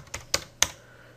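Three crisp keystrokes on a computer keyboard tap out in quick succession, close and clear, with quiet between them.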